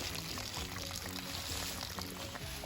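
Water drains out of an RV water heater tank in a steady, close pouring gush with trickling and splashing throughout.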